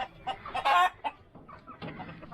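Native chickens on a rooftop poultry farm cluck close by in short bursts, with one louder, sharper squawk early on and softer clucks trailing after.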